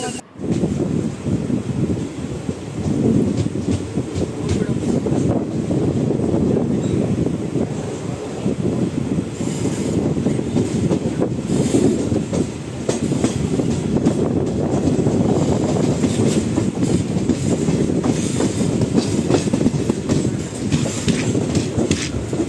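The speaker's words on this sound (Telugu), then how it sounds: "కాకపోతే ట్రైన్ అయితే సిగ్నల్ కోసం చాలా స్లో అయితే వెళ్తుంది." An express passenger train creeps slowly through a station under construction, heard from on board as a continuous low rumble mixed with wind buffeting the microphone, steady for over twenty seconds.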